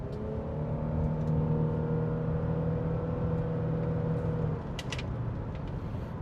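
A high-mileage Nissan Murano accelerates hard on a test drive, with a steady, rising engine and drivetrain drone and whine heard from inside the cabin, followed by lighter road rumble and a few faint clicks.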